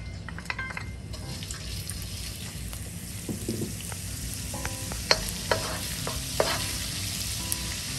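Ginger frying in about two tablespoons of cooking oil in a pan for a chicken panang curry, giving a steady close sizzle with occasional stirring clinks and taps and no talk.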